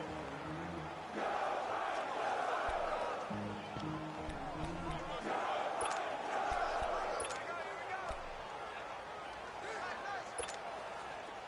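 Stadium crowd noise in a PS4 American football video game, a loud steady roar of cheering and babble that surges and swells throughout without pause.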